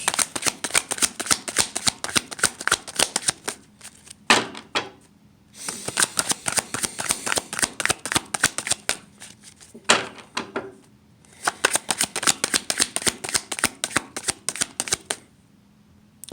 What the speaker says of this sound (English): All right, universe, we need some cards to tell us about Debbie Wasserman Schultz